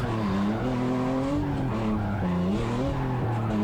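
A stock-angle Hyundai Genesis Coupe drifts with a loud, sustained tire squeal whose pitch wavers and bends over a continuous engine drone.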